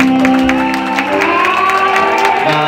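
Wedding guests at a Vietnamese bride's send-off ceremony applaud the groom with a steady wash of clapping and cheering, layered over background music throughout.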